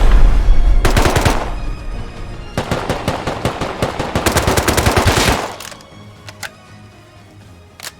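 Automated turret gunfire in the survival game Rust rattles out in rapid bursts of loud, close shots, pausing briefly before a longer stream, then fading to a few scattered distant pops.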